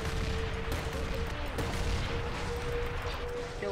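Sustained blaster-style gunfire in a Star Wars Garry's Mod roleplay match, a dense continuous barrage of shots that blends with a steady tone and faint voices throughout.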